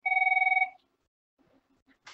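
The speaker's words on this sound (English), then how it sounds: "apologies for the phone" A telephone bell rings in one short electronic trill of rapid pulses, loud and close, then stops, leaving near silence with a few small clicks.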